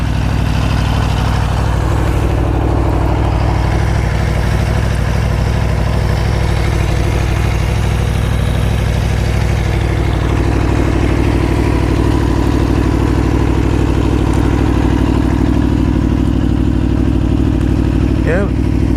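An Aprilia Tuono 1100 motorcycle engine runs steadily nearby, a loud continuous idle with a throbbing low rumble throughout.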